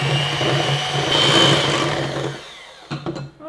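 An electric mixer whirs steadily through chocolate crepe batter made with cocoa powder, loud and close for about two and a half seconds before cutting off, followed by a few light knocks.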